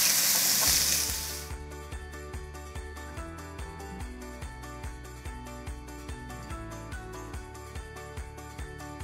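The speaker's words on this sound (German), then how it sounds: "Wenn es so brutzelt, ist es heiß genug mit ein bisschen Öl." A loud burst of sizzling as chicken hits hot oil in a pan, lasting about a second before rhythmic music takes over.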